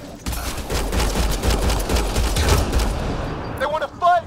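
Rapid, dense gunfire from a firefight in the video game Mass Effect Andromeda, a loud sustained burst of overlapping shots lasting several seconds, followed by a couple of short voiced shouts near the end.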